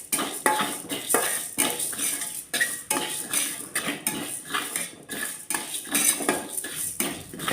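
Small lentils dry-roasting in a pan for chammanthi podi, stirred with a metal spoon that scrapes and clinks against the pan in a brisk repeated rhythm, close and fairly loud, with no talking.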